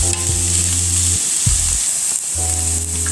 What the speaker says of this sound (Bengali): নেড়ে চেড়ে ভেজে নিব। ডিম আমি সবজির সাথে ভালো করে মিশিয়ে নিচ্ছি।